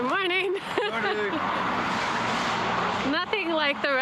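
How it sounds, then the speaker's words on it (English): A car rushes past on a road in Scotland's Great Glen, a single broad swelling whoosh in the middle, with people talking before and after it. "Nothing like the rush of ongoing traffic first thing in the AM."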